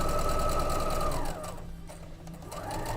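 A sewing machine stitches steadily at close range, running fast and even before easing to a lower, softer hum midway and picking up again toward the end, with no talking.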